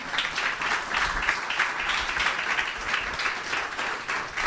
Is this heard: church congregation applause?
yes